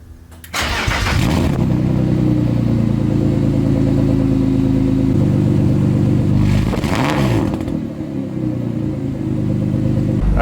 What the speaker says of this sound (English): So immediately the car is like 10 times quieter at idle.